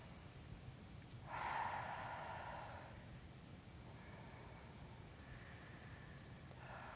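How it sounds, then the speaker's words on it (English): Slow deep breaths taken during a guided relaxation exercise, with one long audible inhale-exhale near the start and fainter breaths after it, heard alone against a quiet background. "let's take in 3 deep breaths together"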